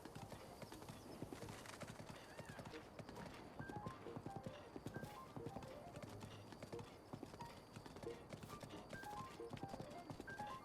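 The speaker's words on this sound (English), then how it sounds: "Struggles of when you're trying to ride horseback across the field" Horse hooves gallop across an open field in the video game The Legend of Zelda: Breath of the Wild, a steady, rapid clip-clop running continuously and fairly close throughout.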